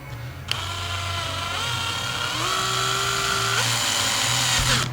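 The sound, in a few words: power drill drilling a hole in wood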